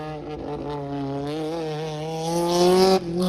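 A 1600 Maverick race car revs hard on a race track, its engine climbing steadily in pitch as it accelerates, loud and close, then cutting off abruptly near the end.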